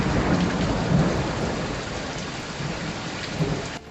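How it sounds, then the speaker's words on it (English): Heavy rain pours steadily with thunder rumbling through a wet storm, a dense continuous roar with low rolling booms and no voices. "the rain's heavy and it's very spectacular"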